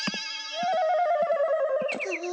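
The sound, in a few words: landline telephone ringing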